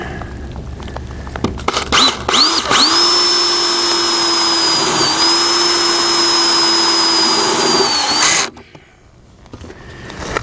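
A power drill driving self-tapping metal tech screws into a metal greenhouse frame: a loud, steady motor whine held for about six seconds after a few short bursts, then stopping abruptly.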